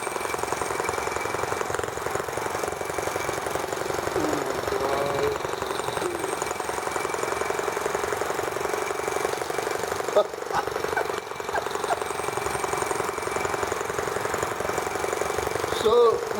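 A small T26 vehicle with one forward and one reverse gear runs while driving, its steady mechanical engine chatter continuous and fairly quiet beneath an ongoing conversation.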